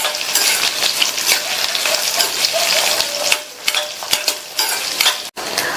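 Peeled, cut potatoes roast in plenty of oil in a pan, giving a steady close sizzle and frying crackle with occasional stirring scrapes, no voices.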